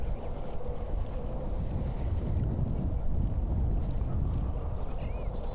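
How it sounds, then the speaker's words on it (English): Steady wind buffets the microphone in a hilly park, a continuous low roar that swells slightly midway and carries no voices. "Kind of windy."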